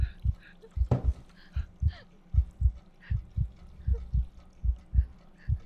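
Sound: heartbeat sound in a video game

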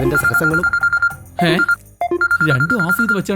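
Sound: telephone ringing

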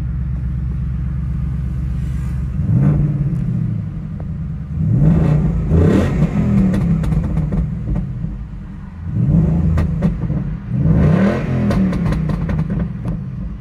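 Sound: Ford Mustang Bullitt engine accelerating hard

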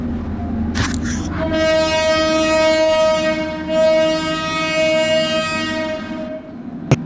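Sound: train departing from the platform

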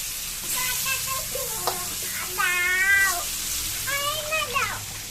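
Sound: oil spattering while frying

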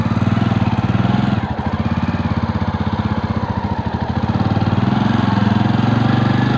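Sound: Jawa Perak Bobber 350 motorcycle engine setting off on ride

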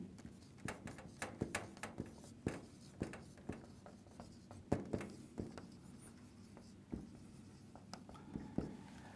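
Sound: writing a formula on paper or board

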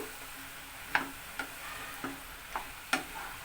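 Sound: stirring bottle gourd vegetable curry in a pan

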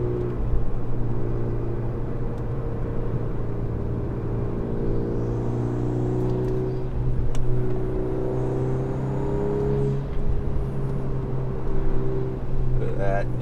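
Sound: Volkswagen Golf R 2024 accelerating on throttle

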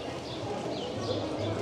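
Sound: horse hooves clip-clopping pulling a cart at a market

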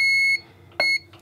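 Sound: continuity tester beeping on copper shielding tape

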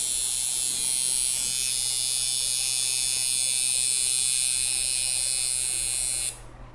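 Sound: coil machine with armature bar running

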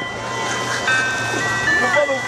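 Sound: ice cream truck

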